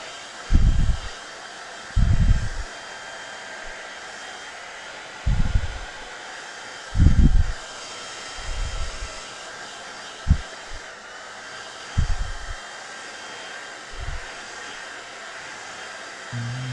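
A blow dryer drying off a small workshop piece, running in short repeated blasts of a few seconds each, roughly eight bursts separated by pauses over steady room noise.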